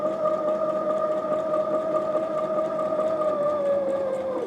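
Brother XM2701 sewing machine stitching a buttonhole, its motor a steady whirring drone with a faint rapid needle pulse running continuously, close and fairly loud.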